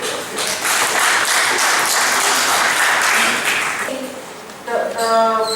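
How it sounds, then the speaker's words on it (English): An audience at a regional parenting conference in Africa applauds its presenters, a broad steady wash of clapping for about four seconds that fades, followed by a short burst of other sound near the end. "let's give applause to the presenters who shared with us"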